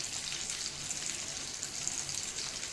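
Prawns frying in a pan over a medium flame produce a soft, continuous sizzle, steady and fairly quiet, heard up close with no talking.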